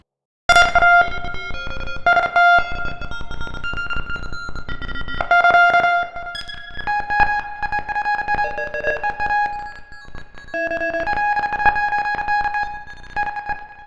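A synthesized guitar tone from a Kontakt virtual instrument plays short, clipped beeping notes in a Morse-code-like pattern, bright and heavily effected with echo, sustaining into steadier pulsing tones.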